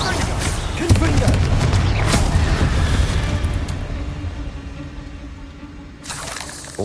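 The Confringo fire spell blasts in the video game Hogwarts Legacy with a loud, rumbling burst that slowly fades, followed by a short second burst at the end.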